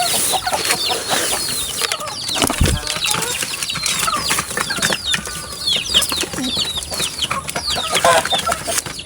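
Pigeons shuffle, coo and flap their wings inside a coop, with bursts of wing beats and rustling scattered over a busy, fairly close backdrop of bird calls.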